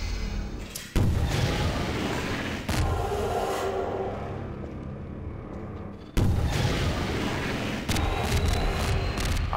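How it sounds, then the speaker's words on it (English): Video game gunfire and booming blasts in a city street setting, loud heavy reports cutting in abruptly and rumbling on continuously, with no voices over them. "He's gonna start shooting."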